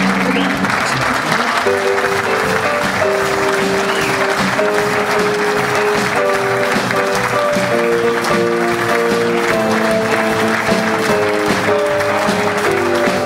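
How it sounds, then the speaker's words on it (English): A theatre audience at a Ken Dodd variety show in Liverpool applauds warmly after a magic act, a sustained wash of clapping under a band playing a bright play-off tune. "Give Peter a big round of applause."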